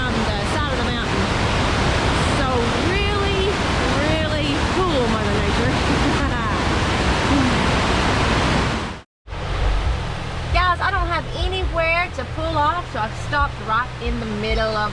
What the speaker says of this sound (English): The water flows out of a cave here at the top